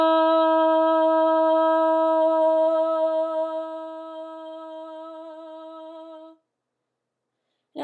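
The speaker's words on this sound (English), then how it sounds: "we are going to do our loud ah for 10 seconds" A single voice sings a loud, clear sustained "ah" vowel as a voice exercise for Parkinson's disease, holding one steady pitch for about six seconds before breaking off into silence.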